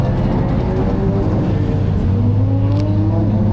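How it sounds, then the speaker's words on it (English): A McLaren Senna GTR race car passes on a track during a trackday, its loud engine droning steadily with a rising, shifting pitch as it goes by, close and alone with no talk. "There was another Senna GTR, as you can see now."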